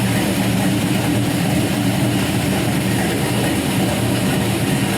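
A 5.3L LS V8 with a big cam idles steadily while warming up, giving a continuous low rumble with a lumpy, pulsing texture at an even, moderate level and no voices.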